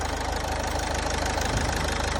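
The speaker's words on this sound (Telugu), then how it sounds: "ఇంజన్లో లిటిల్ బిట్ నాయిస్ ఉంది." A Toyota Etios with about 1.8 lakh km on it idles steadily with a slight engine noise, a close, continuous low rumble with a faint knocking pulse running through it.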